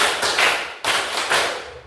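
A classroom group claps hands together in unison, several loud, evenly spaced bursts of clapping in a steady rhythm, close and without talk.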